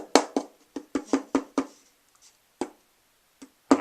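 Fingers tap on a long, resonant wooden cigar box, giving a quick cluster of hollow knocks followed by a few scattered, sparser taps, close and moderately loud with no voices.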